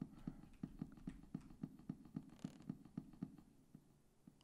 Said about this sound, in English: I hear footsteps that are not my own.